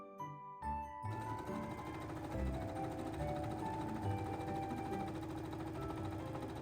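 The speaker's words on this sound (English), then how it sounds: "The first thing I do is sew the yoke pieces together at the side seams." A sewing machine stitches dress yoke pieces together at the side seams for a Mary Poppins Jolly Holiday dress: a short hum and pause, then a steady mechanical chatter of the needle running close by without talk.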